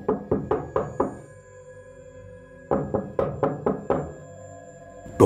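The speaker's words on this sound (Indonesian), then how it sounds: "Suara ketukan itu bukan dari belakang, melainkan dari pintu sopir" Knuckles rap on a car's driver-side window in two quick bursts of about five or six knocks each, separated by a brief pause, close and fairly crisp over a faint tonal background.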